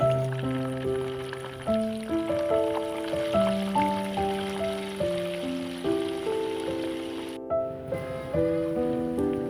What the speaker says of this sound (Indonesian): Ini aku goreng dulu untuk tempenya